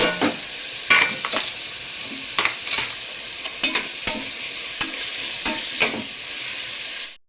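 Crushed tomato, ginger and garlic deep fry in a pan with a loud, close sizzle and hiss, broken by regular clacks of stirring until it cuts off at the end.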